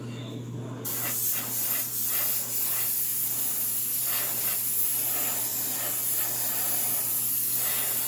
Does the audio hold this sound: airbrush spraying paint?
yes